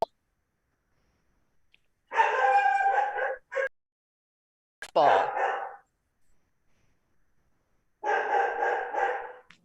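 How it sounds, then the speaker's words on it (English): A dog barks in a home during a camera club's online judging session, three separate bursts of loud nearby barking with quiet gaps between, and a voice briefly speaking. "And my apologies for my dog."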